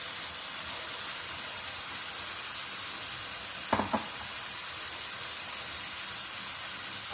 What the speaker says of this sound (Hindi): अब हम इसमें रवा की फलियां या ग्रीन बीन्स शामिल कर देंगे।